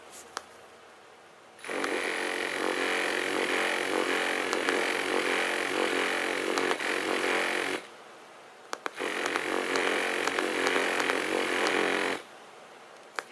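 Loud, steady buzzing from a heated vibrating knee massage wrap's motor running without touching anything, in two long bursts separated by a brief pause, with a harsh rattling drone that sounds close by.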